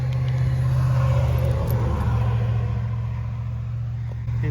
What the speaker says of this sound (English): too many cars driving by